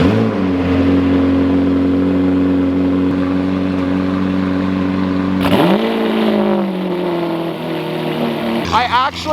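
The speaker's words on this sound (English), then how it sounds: "We're about to get a cold start up on the Aventador and the Senna" A Lamborghini Aventador and a McLaren Senna cold start, deep steady idling engines that suddenly flare into a loud rev about midway, followed by a sharp revving burst near the end, with voices talking over them.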